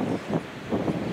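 Strong gusty wind blows outdoors in spring, rumbling in two short buffeting surges against the microphone with a low roar between them and no talking.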